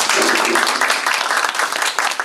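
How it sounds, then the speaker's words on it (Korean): Audience applause of thanks at a Gyeonggi governor's business meeting in a company conference room, a dense, continuous wash of many hands clapping at a steady, fairly loud level throughout. "감사의 박수 부탁드립니다"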